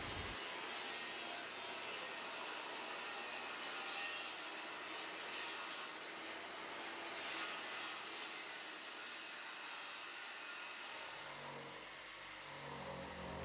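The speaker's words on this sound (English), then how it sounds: "cutting all of the run or tread cuts into the stringer" A saw rasps steadily through a wooden cellar stair stringer, cutting the tread notches in one continuous run of close, scratchy strokes that ease off near the end.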